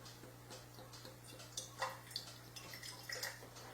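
Water poured into a glass, pH 10 alkaline water, as a faint, thin trickle with small scattered splashes and clicks over a steady low electrical hum, with no talking.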